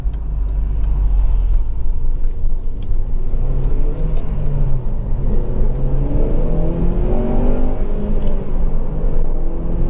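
A Honda Civic Type R GT with a 2.0 i-VTEC engine revs up loudly and continuously from inside the car, its tone rising and falling over a steady low rumble, with no talking.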